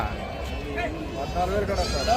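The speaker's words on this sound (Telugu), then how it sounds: "అటు పక్కకు వెళదాం మేకలు ఉన్నాయి" Goats bleat at a sheep and goat market in Gudur, with a few short cries rising over a busy crowd of people talking.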